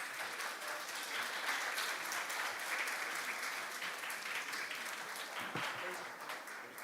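An audience at a youth international forum applauds a visiting student team from a middle school and Germany, continuous even clapping from a crowd of moderate size, steady throughout, with faint voices mixed in.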